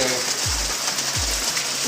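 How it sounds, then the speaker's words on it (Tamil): Rain falling during a motorbike road trip to Udhagamandalam: a dense, steady hiss of drops close by, with a few low swooping tones beneath it. "மழையில் மாட்டிக்கிட்டேன்"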